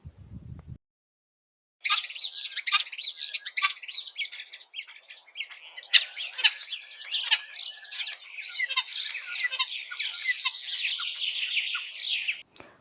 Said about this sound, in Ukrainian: Ось і шпак уже в шпаківні.